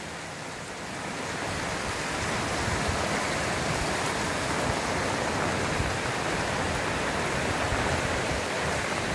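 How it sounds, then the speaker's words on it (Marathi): Flood water from the swollen Arjuna river in Rajapur, Konkan, pours over a road by a small bridge during heavy monsoon rain, a steady, dense, loud rushing roar that holds constant throughout. "हे पाणी रस्त्यावर आलेलं आहे"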